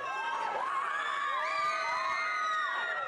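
A crowd at a Toronto Film Festival 2009 event cheering and whooping, with high excited shouts and yells overlapping continuously at a lively, fairly loud level.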